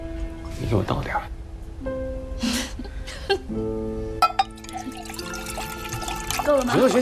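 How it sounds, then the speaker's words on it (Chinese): A drink is poured into a glass, a short liquid splash and gurgle with a light clink, heard over background music and nearby voices. "你给我倒点儿。"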